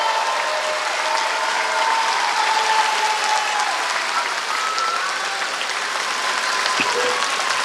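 Sustained applause from a commencement audience for graduates at Chabot College's 2024 ceremony, a steady broad wash of many hands clapping with crowd murmur, moderately loud throughout.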